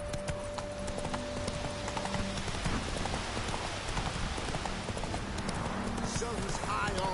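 Horse hooves clip-clopping at a steady rhythmic pace in The Witcher 3 video game, with constant ambient wash and a voice speaking over them.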